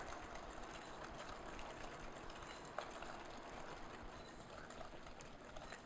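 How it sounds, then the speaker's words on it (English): A whisk beats sugar into melted bitter chocolate for cream cheese brownies, giving a steady, continuous scraping churn close by with no pauses or talking. "So just whisk that in really well."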